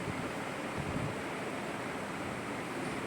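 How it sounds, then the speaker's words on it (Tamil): Medu vada frying in hot oil give a steady, dense sizzle that holds at an even level throughout, close by and with no talking. "ரெண்டு பக்கமும் செவக்க ஃப்ரை பண்ணி எடுத்துக்கலாம்"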